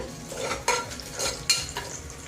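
A pan of ingredients lightly frying for mutton curry, soft sizzle broken by two or three sharp stirring scrapes of a spoon against the pan, close and without talk.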